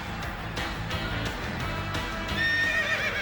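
A horse whinnies loudly in a horse trailer advertisement, a drawn-out neigh rising near the end over a steady background, with faint hoof clip-clops mixed in.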